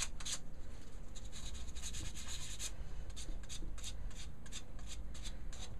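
Hand sanding on a wood-turning lathe with 240-grit sandpaper, a steady close scratchy rubbing in repeated strokes with no talk.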